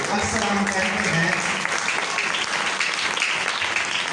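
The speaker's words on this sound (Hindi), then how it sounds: "आए अपने वादों वाले खुदा के लिए जोरदार ताली बजाएंगे।" A church congregation claps loudly and steadily throughout, a dense wash of applause with voices mixed in underneath.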